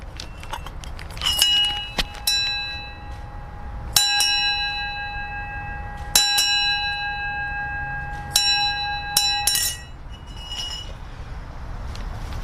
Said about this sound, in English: in honor of Brenda, I give you a solemn 3-bell ring